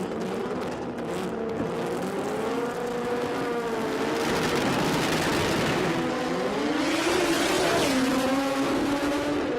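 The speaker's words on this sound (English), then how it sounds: "Grabbing gears both sides of the racetrack." Drag race cars launch side by side down the racetrack, engines screaming loud and steady with rising pitch sweeps as they grab gears, one clear shift dip followed by the climb again, no talk.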